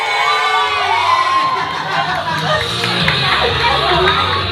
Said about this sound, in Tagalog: o sige, isa pa sigaw! 1, 2, 3, go! Happy birthday, Angeline!